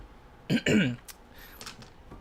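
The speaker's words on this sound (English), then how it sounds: "I ate recently, and so I keep having to clear my throat." A person clears their throat twice in quick succession, short harsh bursts close to the microphone during a live D&D survey session, followed by a few faint clicks and quiet room noise.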